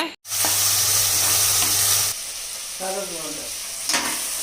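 A sudden loud sizzle as tomatoes hit a hot frying pan for a bottle gourd and cowpea rice dish, hissing steadily for a couple of seconds before settling into quieter frying with brief speech.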